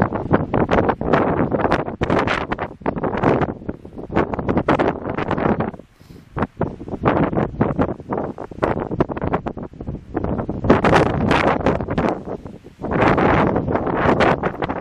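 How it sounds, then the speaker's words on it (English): Strong gusts of wind buffet the microphone on Black Mountain in rough, roaring bursts, with a short lull in the middle before picking up again. "nice windy place to have lunch."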